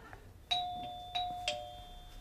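A doorbell rings three times in a Turkish sitcom home, clear two-tone chimes sounding close and alone with no talking over them.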